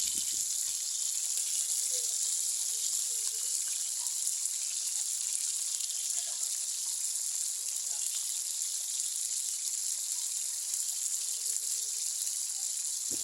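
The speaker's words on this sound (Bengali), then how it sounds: "সবগুলো মাছকে আমি উল্টে পাল্টে ভাজা ভাজা করে নিব।" Pangas fish pieces fry in hot oil with a constant, fairly quiet high-pitched sizzling hiss that holds steady throughout, with no voices.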